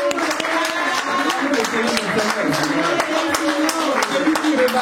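A church congregation claps and cheers loudly during a service, with rapid scattered handclaps and shouting voices carrying on steadily throughout.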